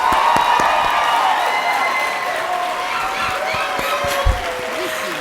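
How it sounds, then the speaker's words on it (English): Applause at a college of education graduation pinning ceremony, a steady wash of clapping from a large indoor crowd with a few scattered whoops, moderately loud and sustained throughout. "Please give all early childhood education candidates a round of applause."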